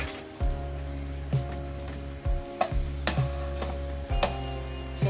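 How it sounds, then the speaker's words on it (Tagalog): Butter melting in a hot pan before cooking a salmon head, a close, steady sizzle with crackling spits and a few sharp clicks, no talking. "So, tunawin muna natin yung butter."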